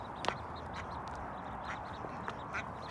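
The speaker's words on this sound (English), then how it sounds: "Mama duck, are you gonna hurt me for getting near your baby ducks?" Ducks quacking outdoors, a mother duck with her ducklings, giving a few faint, scattered quacks over steady background noise.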